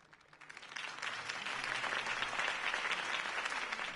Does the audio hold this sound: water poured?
no